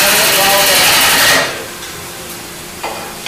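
Wood lathe spinning while a wooden hat is turned, a dense whirring hiss for about a second and a half that then drops away to a quieter low running hum, close, with a faint knock near the end.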